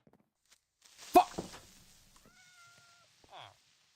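A cat in the video game Minecraft gives a short meow amid a few scattered game noises and soft thumps, fairly clear against quiet surroundings.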